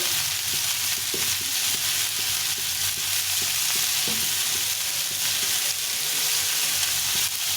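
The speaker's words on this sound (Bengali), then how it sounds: "ফুলকপি আলুটা ভাজা ভাজা হয়ে গেছে লাল করে ভেজে নিয়েছি" Cauliflower and potato pieces fry in a pan, a steady loud sizzle with soft stirring scrapes and clinks repeating throughout, with no voices.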